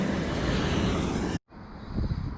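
Strong wind buffets the microphone while fishing from a Florida bridge, a loud, continuous roar that cuts out briefly and then returns slightly softer.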